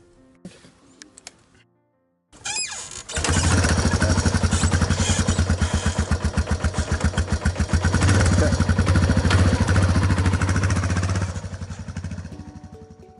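Motorbikes ridden by rural health couriers over rough terrain in Zimbabwe, a loud, steady engine drone that starts abruptly after a short quiet stretch and holds strong before easing slightly near the end.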